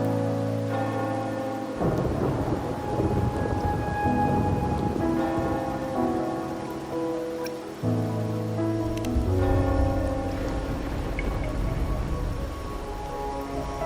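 Rain and thunder in the video game Wuthering Waves, a steady wash of rainfall with low rumbles, heard beneath a layered tonal music score that swells and shifts throughout.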